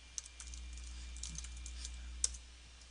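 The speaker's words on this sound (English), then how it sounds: "all they do is they type in their name here" Quick, light keystrokes as a name is typed on a computer keyboard, a short run of soft close taps with a couple of sharper clicks over a quiet room hum.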